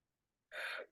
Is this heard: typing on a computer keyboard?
no